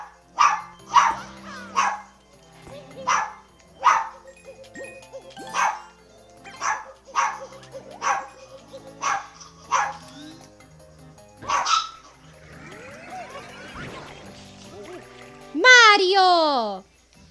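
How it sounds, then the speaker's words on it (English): Dog in the Super Mario Sunshine video game barking again and again in sharp, evenly spaced yips, with a high electronic game chime near the end and a player talking over it. "This is what happens when, you have a dog. Sometimes they just won't shut up, you know?"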